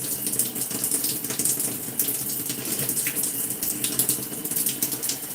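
Steady rushing water from a tap runs continuously and fairly loud nearby during dog grooming, a broadband splashing gush with no speech.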